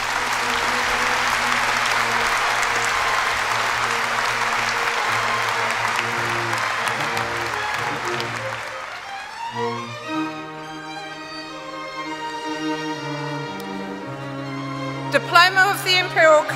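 A crowd at a 2019 Imperial College postgraduate graduation ceremony applauds the Department of Chemistry graduates with loud, sustained clapping for about nine seconds, then the clapping fades and music takes over.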